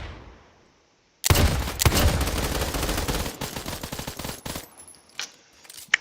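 A classic shotgun in a Roblox game fires a sudden loud blast that launches a dense run of rapid close shots, fading into a few scattered bursts and clicks near the end.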